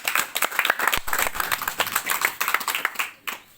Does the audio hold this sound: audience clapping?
yes